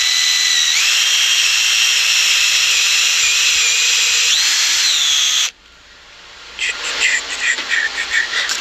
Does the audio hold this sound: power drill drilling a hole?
yes